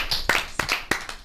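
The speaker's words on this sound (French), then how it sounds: "applaudissons" A small group claps together in a classroom-style gathering, four or five loud, close, evenly spaced bursts of clapping in quick rhythm over about a second.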